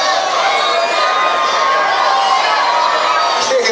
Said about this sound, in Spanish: Esos aplausos.